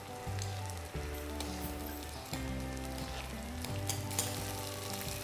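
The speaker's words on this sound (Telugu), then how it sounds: "ఫస్ట్ కొంచెంగా వేసి వేయించాలండి" Ingredients for a homemade joint-pain remedy fry steadily in a pan, a continuous close sizzle with crackling and a low hum underneath, no voices.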